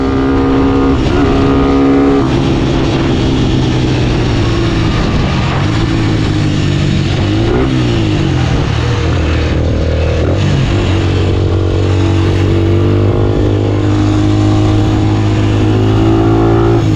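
Motorstar Xplorer 200 and Sniper 150 motorcycles racing side by side, loud sustained engine whine with rising and falling revs and gear changes, heard close from the rider's position over wind noise.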